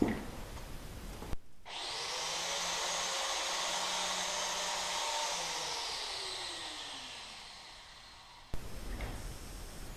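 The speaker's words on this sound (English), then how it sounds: "I'm gonna take the angle grinder for a second, hold it next to my ear and start it and listen how it sounds." An angle grinder switches on with a sharp click, spins up to a steady high-pitched whine and runs continuously for several seconds, then cuts off abruptly, heard close up.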